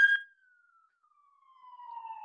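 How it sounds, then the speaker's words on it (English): A short sharp tone gives way to a single siren slowly falling in pitch, faint at first and growing louder toward the end. "sorry, there's sirens going on."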